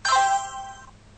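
A short, bright chime rings once from a Huawei Ideos U8150 phone for an incoming text message, a clear ringing tone that decays quickly into quiet.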